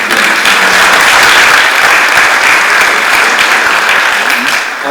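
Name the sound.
applause for civil servants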